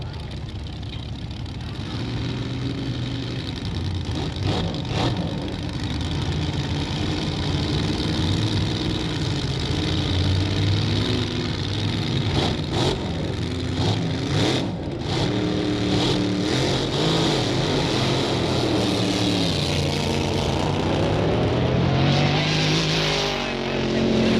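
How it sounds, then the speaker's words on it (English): A Ford-powered dragster from Oklahoma at the starting line of a 1962 Winternationals drag race, its engine rumbling loudly and revving in bursts, with a voice heard over the noise. "the Oklahoma car now pulling up to the line, Ford powered"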